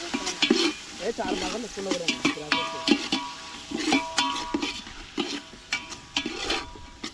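Onion curry fries in a pan while a spoon stirs it, giving a busy sizzle punctuated by repeated scraping and clinking strokes against the metal, with people talking over it.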